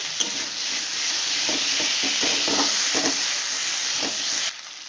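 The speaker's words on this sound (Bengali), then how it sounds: "আবারও ভালো করে কষাবো দেখুন আমার কষতে কষতে টমাটোগুলো প্রায় গলে গেছে" Tomatoes cooked down with salt in a pan for a katla fish, cauliflower and potato curry hiss in a loud, steady sizzle, with soft rhythmic scrapes of stirring and no voices, before the sound drops suddenly at the end.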